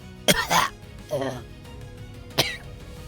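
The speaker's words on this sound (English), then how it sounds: "Something coughs on Selena's belt." A cough from something on a character's belt during a tabletop roleplaying game session, a couple of short throaty coughs close by, with a brief voice in between.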